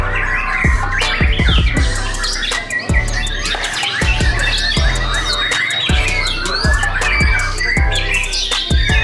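Live songbirds sing in a loud, close, continuous burst of chirps, trills and squawks, used as master birds for training magpie robins.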